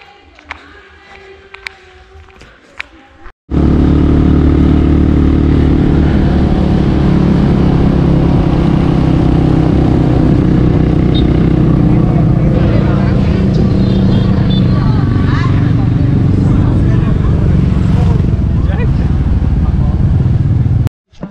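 A motorbike ridden along the Ha Giang Loop in northern Vietnam on a cold day: after a few quiet seconds of faint background sounds, a loud, constant engine and wind roar takes over and continues steadily to the end.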